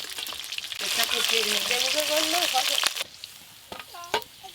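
Pieces of snakehead fish fry in hot oil, giving a dense, bright sizzle for about three seconds with a voice-like tone running over it, then dropping to a quieter crackle with a few brief pops.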